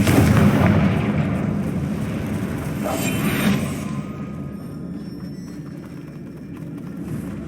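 A Confringo blasting spell explodes in Hogwarts Legacy, a loud booming blast with rumbling low end that swells again around the third second before decaying into a lingering fiery rumble.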